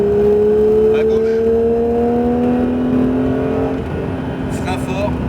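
Porsche 911 GT3 engine on the Mireval racing circuit, holding steady throttle with rising pitch, then easing and picking up again, loud and close as an instructor talks over it.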